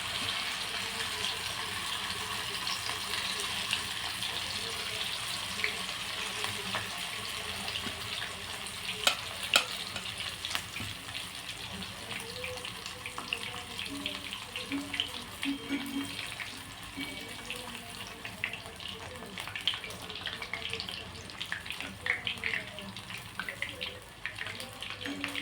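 Soy chunk fritters deep-frying in hot oil, a steady dense crackling sizzle that runs unbroken throughout, with occasional brighter pops and faint stirring.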